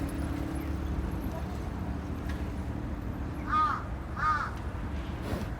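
A crow caws twice in the middle distance against steady rain and low background rumble at an outdoor camp.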